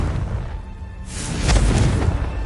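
Confringo fire spell exploding in Hogwarts Legacy, a sudden booming burst after a quieter lead-in, loud and close with a rumbling tail.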